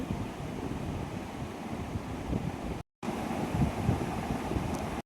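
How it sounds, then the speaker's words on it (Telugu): Cool wind sweeps over green crop fields near a temple, buffeting the microphone with a steady low rumble and roar, briefly interrupted by a short gap. "బాగా పచ్చటి చుట్టూరు పచ్చటి పంట పొలాలు, చల్లటి గాలి వస్తుంటుంది అక్కడ"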